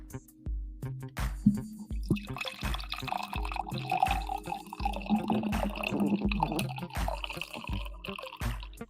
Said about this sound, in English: I got to pour the rest of my coffee to celebrate that.